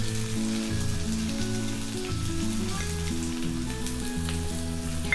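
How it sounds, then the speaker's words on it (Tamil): Chopped onions are added to ginger and garlic already frying in oil over a high flame for chicken cutlets, giving a steady, close hissing sizzle that runs throughout under a melodic tonal background, with no talking. "இப்போ நம்ம கட் பண்ணி எடுத்து வச்சுருக்கிற வெங்காயத்தை சேர்த்துக்கலாம்."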